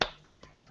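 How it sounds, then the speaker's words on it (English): A single sharp clap from one person, loud and close, followed by a fainter second tap and quiet room tone. "so I'm going to clap representative of the whole audience"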